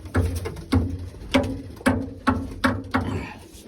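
Young pigeons are released to fly in Boryspil, with a steady run of regular close pulses about every half second, like wing flaps or coos, that fade at the end.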